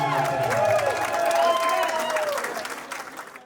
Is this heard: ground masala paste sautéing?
no